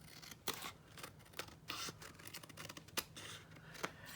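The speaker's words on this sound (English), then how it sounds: "We're going to trim these off, and I just use a big pair of scissors to do this instead of little ones." Big scissors trim card stock for a handmade card, giving a series of crisp, close snips at irregular intervals, about six or seven sharp cuts with quiet paper rustling between them.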